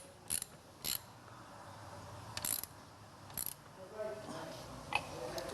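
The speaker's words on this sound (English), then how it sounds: "And we tighten up our clamp." A clamp being tightened on an Omni 350 maintenance rig gives several short, crisp ratcheting clicks in bursts over faint background hum.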